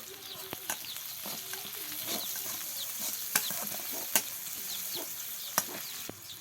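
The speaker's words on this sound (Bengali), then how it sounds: "এবার মাছ ভোনা করার জন্য ওই মাছ ভাজির তেলেই পেঁয়াজ কুচি দিয়ে দিল কাঁচামরিচ কুচি" Chopped onion and green chili frying in leftover fish-frying oil, a steady sizzle with frequent scraping stirs and a few sharp clinks, close and moderately quiet, with faint rural background sounds.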